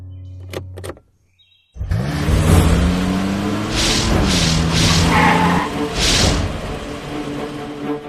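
A car engine revs hard after a short silence, its pitch climbing and holding in a loud, strained drone, with the roar surging again near the end.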